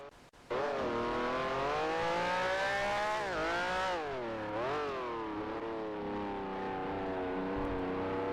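Race car engine in a Grand Prix Legends sim racing game, loud and close, holding a high whining note, then dropping and climbing again through shifts, with a brief clatter at the start.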